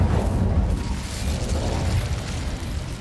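An Incendio fire spell cast in the video game Hogwarts Legacy, a loud, sustained whooshing roar with a deep rumbling low end, steady for a few seconds.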